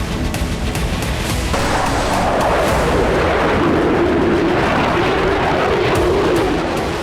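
Israeli bombardment and artillery fire strike Dahiyeh in Lebanon, producing a loud, continuous rumbling roar of blasts and booms that rolls on without pause and with no voices.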